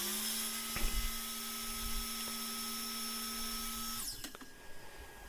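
A power saw cuts a blade-width notch about an eighth of an inch into scrap wood for a window screen frame. It gives a steady, high-pitched whine that winds down after about four seconds, with a few small knocks.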